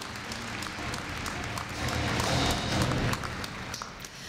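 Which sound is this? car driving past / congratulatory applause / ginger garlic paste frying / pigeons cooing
congratulatory applause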